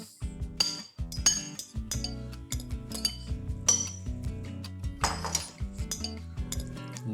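A spoon clinks and scrapes against a bowl as tomatoes are gently stirred for guacamole, a series of close, bright metallic taps and knocks in an uneven rhythm.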